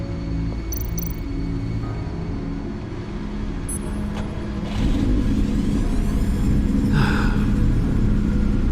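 A car engine in the Batman: Enemy Within video game rumbles steadily, then rises in a louder, fuller rev partway through, with a few faint higher tones above the low drone.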